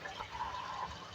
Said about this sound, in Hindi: इन तमाम मसालों की भुनाई करेंगे, लेकिन इसमें मैं ऐड करूंगी बिल्कुल थोड़ा सा पानी